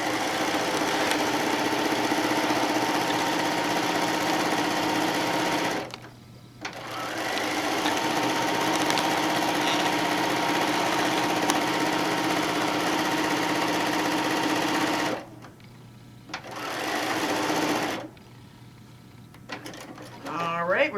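A sewing machine stitches a tote bag panel in long steady runs, its motor and needle whirring loudly up close, pausing twice briefly before resuming.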